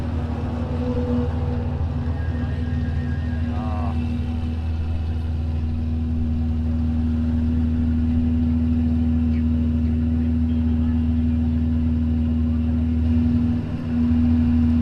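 A Dallara race car engine drones at Imola track during Historic Minardi Day, a steady, loud, tonal hum holding one pitch throughout, with a brief dip near the end and no speech.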